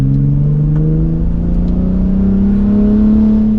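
A 2023 Ford F-150 Raptor in sport mode pulls away under mild acceleration, its exhaust a steady, loud drone rising gradually in pitch throughout, heard from inside the cab with no talking.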